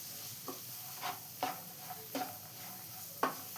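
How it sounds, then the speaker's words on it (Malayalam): Beans, carrot and salt being stirred in a frying pan, with a few separate scraping strokes of the spoon over a soft, steady sizzle, close and fairly quiet. "എല്ലാം കൂടി നന്നായി തന്നെ ഒന്ന് മിക്സ് ചെയ്തെടുക്കണം."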